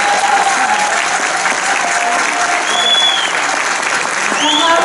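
Audience at a choir concert applauding the orchestra, sustained dense clapping from a crowd that stays loud and steady, with a few faint whistles and cheers over it.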